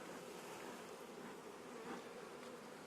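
Honeybees buzz in a dense, steady drone around an opened hive during a split-hive inspection, close and continuous for a few seconds.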